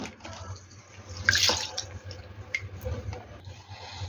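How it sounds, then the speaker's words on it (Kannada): Water is poured into a pot of washed rice to soak it, giving a brief splashing gush near the start, then soft trickles and drips close by in a quiet kitchen. "ಈಗ ನೀರು ಹಾಕಿ ನೆನೆಸಿಡೋಣ"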